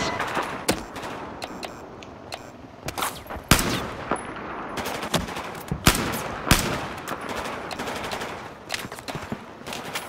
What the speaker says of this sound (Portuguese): Deixa eu fazer uma explosão pra vocês verem aí